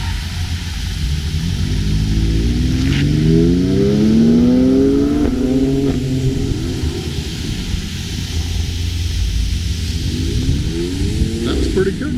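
A BMW M2 Competition drives a handling course, its engine droning steadily and loudly from start to finish, with revs climbing and falling mid-run over constant wind and road roar.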